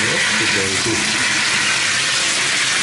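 A shower turned all the way to hot gushes at strong pressure, a loud, steady broadband hiss of spraying water that holds unbroken throughout, with a brief faint voice near the start.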